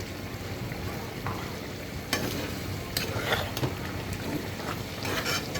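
Whole onions fry uncovered in a pan for a Persian-style chicken dish, giving a constant crackling sizzle broken by several sharp scraping stirs near the mic.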